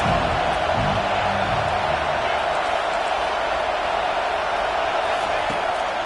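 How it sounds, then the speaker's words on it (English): A stadium crowd at a football game roars in a dense, loud, continuous wash of cheering, with a voice talking faintly beneath the noise near the start. "Listen to this crowd just shaking the girders of this place trying to help their defense."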